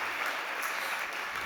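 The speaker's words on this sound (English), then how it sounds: "Can we have a big round of applause?" Audience applause after a startup pitch at a mobility and smart cities competition, a dense, steady wash of clapping that holds evenly for the whole moment with no voices over it.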